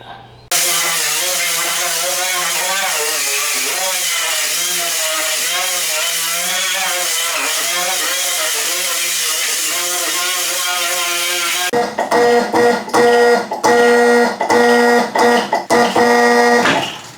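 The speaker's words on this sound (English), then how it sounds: "I'm hitting everything with a wire wheel, getting all loose paint and rust off the best I can" A wire wheel grinder strips loose paint and rust from the floor of a 1968 Datsun: a loud, steady, close whine for about eleven seconds, then short, repeated bursts of grinding.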